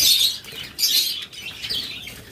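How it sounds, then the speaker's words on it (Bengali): A crowd of Java sparrows chirping close by, dense bright overlapping chirps and twitters in quick bursts, with some wing flutter, no voices. "অসংখ্য পরিমাণ পাখি রয়েছে জাবা পাখি"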